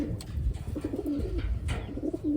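Racing pigeon in a cage coos softly in low repeated murmurs, close by, with faint rustling and no talking.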